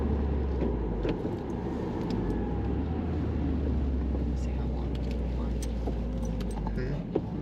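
A car driving in traffic on Vancouver Island, heard from inside as a steady low engine and road rumble that runs throughout, with people talking briefly over it.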